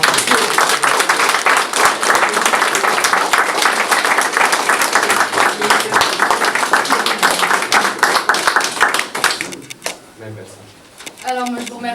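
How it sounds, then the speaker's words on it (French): An audience claps loudly and steadily for a performer at an evening event in Metz, dense sustained applause that cuts off near the end, leaving a brief moment of voices and room sound. "Hugues Balsinger, je vous demande de l'accueillir par un tonnerre d'applaudissements."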